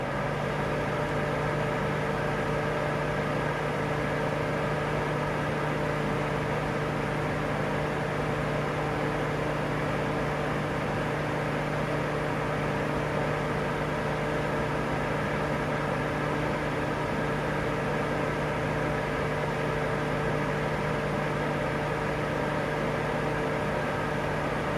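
A Woozoo Globe electric fan runs at speed 5, its highest setting, giving off a steady whooshing airflow and a constant motor hum with tonal whine, unchanging and moderately quiet throughout.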